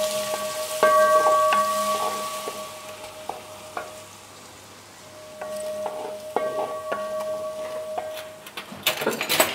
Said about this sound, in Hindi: अब इसके अंदर हम डाल देंगे चॉप प्याज और प्याज को हम अच्छी तरह से ब्राउन करेंगे